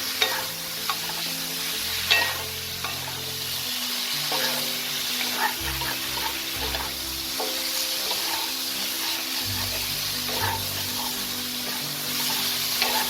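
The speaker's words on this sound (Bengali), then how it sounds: "এবার আমি ভেজে রাখা ফুলকপিগুলোকেও দিয়ে একটু মশলার সাথে ভালো করে মিশিয়ে নেব।" Fried cauliflower gets stirred into a spice paste frying in a pan, a dense, continuous sizzle with the scrape of a spoon running underneath, close and steady throughout, without any talking.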